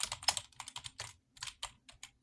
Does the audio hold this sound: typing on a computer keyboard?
yes